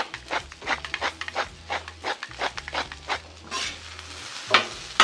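Salted green beans sizzle steadily on a Blackstone griddle, broken by a rhythmic series of scraping stirs and turns, loud and close with no voices.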